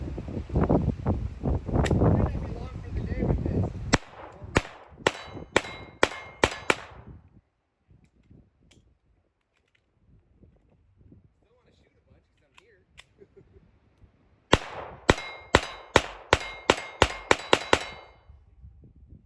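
A Glock 44 .22LR pistol fires two quick strings of sharp, close cracks, roughly eight shots in each burst, separated by a quiet pause. A person talks over rumbling noise at the start.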